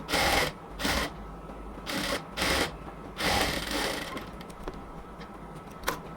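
A sewing machine stitches a half-inch seam on a cotton kameez, running in a few short bursts with brief pauses between them, then giving way to a quieter, steadier whirr and a final click.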